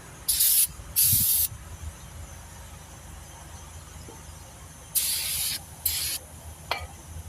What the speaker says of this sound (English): Spray that a little bit more.